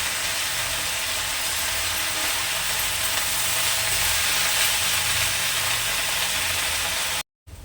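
Jute leaf greens frying in a pan over a low-to-medium gas flame make an even, unbroken hiss and sizzle at moderate loudness, with no voices, ending in a brief dropout.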